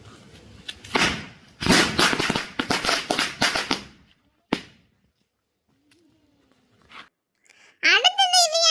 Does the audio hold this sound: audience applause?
no